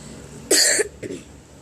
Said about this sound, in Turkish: boğazıma balgam kaçtığı için öksürüp duruyorum